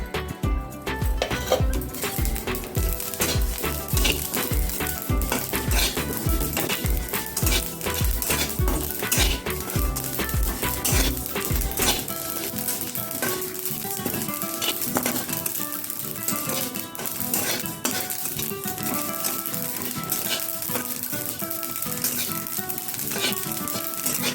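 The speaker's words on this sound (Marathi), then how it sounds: "आता याच कढईत तीळ भाजून घेऊयात" Sesame seeds dry-roasting in a kadhai, a dense continuous crackle and rustle of popping seeds with rapid clicks and stirring scrapes, loud and close, with no voices.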